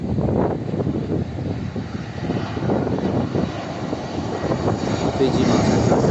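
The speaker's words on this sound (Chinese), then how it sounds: "飞机马上就要降落了，由北往南降落" An airliner descends toward Guangzhou Baiyun International Airport from the north, its engines giving a steady, loud roar. Strong wind rushes throughout, and a person speaks over the noise.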